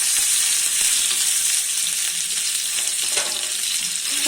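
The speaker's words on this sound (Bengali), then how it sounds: "হালকা আমি নেড়ে নিচ্ছি আদাটা" Ginger paste frying and being stirred in a pan while cooking potatoes with cumin, a steady bright sizzle that stays loud and even throughout with no talking.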